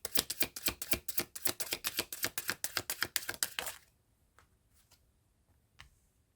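Tarot cards riffle-shuffled in a quick, steady run of crisp flutters for several seconds, then stopping, followed by a few faint, isolated card snaps and draws in near silence.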